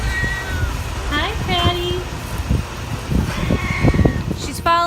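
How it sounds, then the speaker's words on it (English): A pregnant cat on a farm meows several times close by, short rising and falling cries spread across a few seconds over light rustling. "Oh, there's a pregnant kitty."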